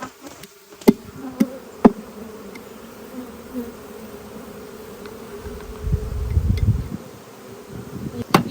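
Honey bees buzzing around hive frames, a steady close hum with a few sharp knocks and a low rumble of handling noise partway through.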